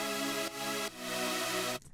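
A sustained synth pad layered with a filtered copy of the same pad in an electronic drop, a dense, continuous chordal wash that shifts twice before cutting off abruptly near the end.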